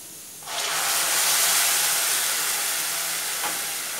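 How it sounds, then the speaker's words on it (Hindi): Tomato puree goes into a pan of lightly browned frying onions, setting off a sudden loud steamy hiss that swells and then holds steady, with no talking. "अब हम इसमें ये टमाटर प्यूरी डाल देंगे"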